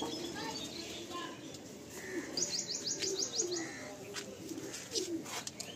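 Pigeons in a loft coo and chirp softly amid steady background rustle, with a brief run of higher chirps in the middle; a person talks nearby throughout.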